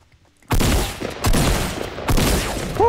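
Gunfire in Fortnite Battle Royale, three loud sharp bursts of shots, each with a lingering tail, following a brief quiet start.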